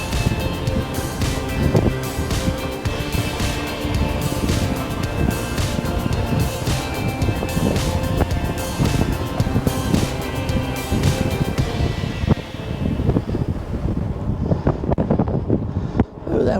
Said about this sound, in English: That wind is pushing me back.